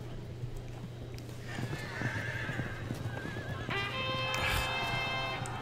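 Cavalry horses neigh and whinny in the Field of Glory II strategy game. Several drawn-out whinnies rise over a busy, murmuring battle ambience and a low steady hum.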